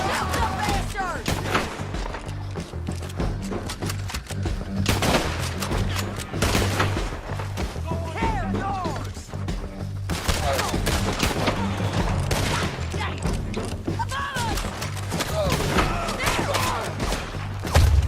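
Gunfire erupts in the Red Dead Redemption 2 video game, a dense fusillade of close and distant shots with thumps, under shouted voices and a steady music bed.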